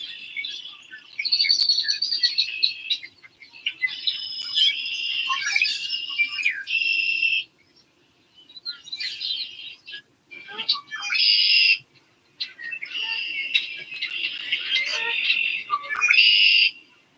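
Bursts of high, busy bird chirping and twittering come in several clusters with brief pauses between, fairly close and clear over a quiet background.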